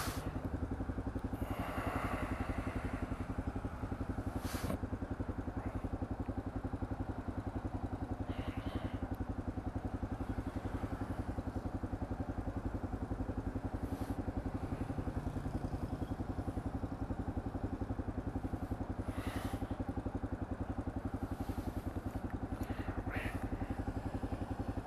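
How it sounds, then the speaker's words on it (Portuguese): Steady motorcycle engine drone from a Yamaha Ténéré being ridden on the road in cold weather, a continuous close rumble with wind noise and occasional clatter, no talking. "andando de moto aí"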